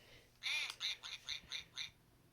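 Duck quacking from a children's farm sound book, a run of six or seven bright, nasal quacks in a quick, evenly spaced series, clear and close with no talk over it.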